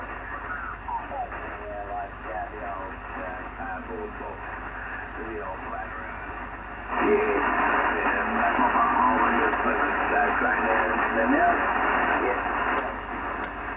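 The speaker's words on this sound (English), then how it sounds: "you're listening to pure static" Steady hiss of band static from a Yaesu FT1000MP HF transceiver with no station tuned, growing louder partway through as settings change, with someone talking quietly beneath it.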